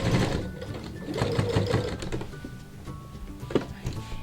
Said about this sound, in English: Now I'll pivot again, and I'll sew the other side of my headband.